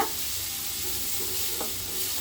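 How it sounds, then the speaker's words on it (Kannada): Two finely chopped onions fry in oil on a low flame for chicken gravy, making a constant gentle hiss with a couple of faint stirring knocks and no talking. "ಇದಕ್ಕೆ ನಾನು ಸಣ್ಣದಾಗಿ ಹಚ್ಚಿರೋ ಅಂತ ಎರಡು ಈರುಳ್ಳಿನ ಹಾಕೊಳ್ತಾ ಇದ್ದೀನಿ"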